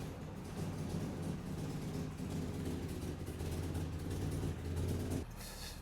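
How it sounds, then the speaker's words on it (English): A 1968 Jaguar S-Type engine idles steadily with a deep, low rumble, running continuously before dropping to a quieter hum near the end, the car up on a ramp. "Seems to be idling nice, doesn't it?"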